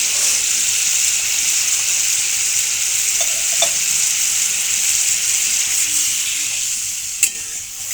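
Water poured into a pan of frying fish curry, a steady loud hiss and sizzle with faint stirring scrapes, close and continuous, no talking.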